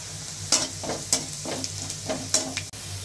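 Whole cumin seeds crackle in hot oil in a pan, giving a continuous sizzle with a series of sharp scraping and stirring strikes spaced roughly half a second apart, close and clear with no speech.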